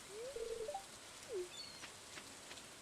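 Soft, steady video game rainfall patter under a few clear bird calls and whistles, the rain a quiet, even hiss throughout.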